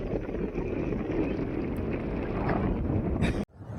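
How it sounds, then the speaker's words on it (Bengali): Strong, cold wind sweeps through snowy Yumthang Valley in North Sikkim, roaring and buffeting the microphone in a loud continuous rush that cuts out abruptly near the end before a fresh gust. "অসম্ভব হাওয়া দিচ্ছে এখন"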